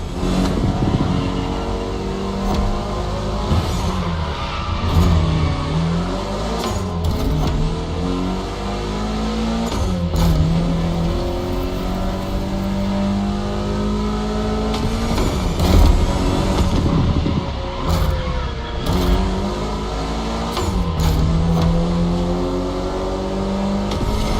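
A Mitsubishi Lancer Evolution final concept version roars through a racing video game, engine revving steadily up and down through gear changes for the whole stretch, loud and continuous with no talk.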